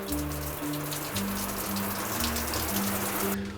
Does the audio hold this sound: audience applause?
no